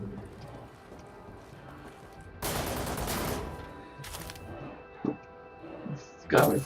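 In Wolfenstein: The New Order, a bunker gun fires in a dense, loud burst, then a shorter volley, followed by scattered single heavy shots, with someone talking around the gunfire.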